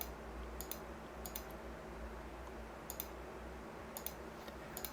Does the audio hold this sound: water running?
no